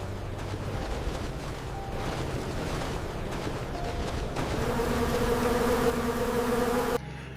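Flies buzz continuously in a layered, wavering drone that grows louder and higher toward the end before cutting off abruptly.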